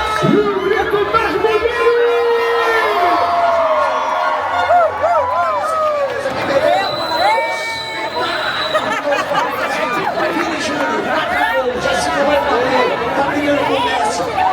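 Football fans fill a World Cup stadium in Belém do Pará with loud, dense crowd chatter and shouting, a continuous roar with individual voices and a few whistles rising out of it.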